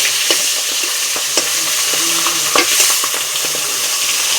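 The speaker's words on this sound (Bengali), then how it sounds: "এখন আমি ভাজা করে নেব, সুন্দর করে লাল লাল করে ভাজা করে নেব মাছের মাথাটা" Rohu fish head, rubbed with salt and turmeric, frying in hot oil in a pan, giving a steady close sizzle with scattered crackles and pops, alongside occasional stirring and scraping sounds throughout.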